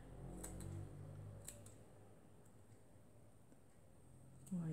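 Scissors snipping paper while making a handmade bookmark, a few quiet crisp cuts near the start and another near the end, against a faint room background with no talking.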